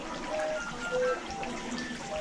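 Water-driven mechanical birdsong from organ pipes inside a centuries-old gravity fountain grotto in Austria: thin whistled tones chirp briefly over a steady wash of trickling water, moderately close.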